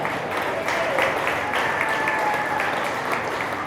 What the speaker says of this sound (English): Let's give all these kids a round of applause